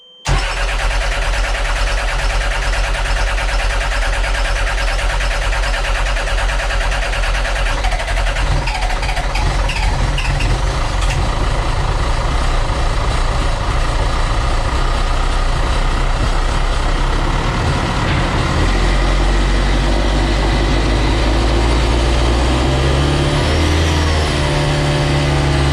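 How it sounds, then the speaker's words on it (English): A sailboat's motor cranks and catches, then settles into a steady, loud, mid-pitched running drone that continues unbroken for the rest of the stretch, close up with no talk over it. "Fire that motor, buddy."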